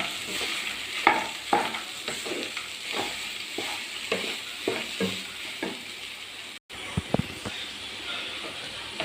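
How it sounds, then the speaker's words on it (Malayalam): Spoon strokes scrape and stir through a mixture of dates and nuts in a pan, repeating irregularly over a steady sizzle. "ഒന്നും കൂടി മിക്സ് ചെയ്ത് കൊടുക്കുക"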